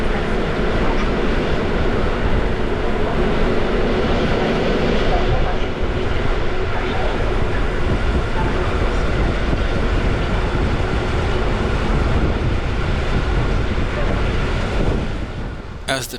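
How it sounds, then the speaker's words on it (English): A PKP Intercity TLK Karkonosze sleeper train runs out of Warsaw, its steady rumble and wheel-on-rail roar filling the space continuously, with a brief change at the very end. "As the train left Warsaw behind,"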